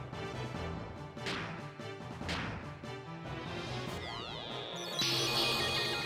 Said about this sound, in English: it sounded like the weapon sound effect